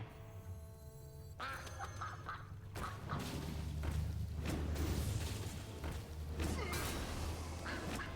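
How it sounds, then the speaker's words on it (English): A duck quacking in a Hearthstone Mage Arena card game, several clipped quacks cutting in over a busy bed of game music and effects, loud and up front. "Quack, quack, quack."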